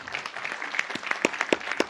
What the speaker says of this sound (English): Can we clap hands for all the journalists who are here?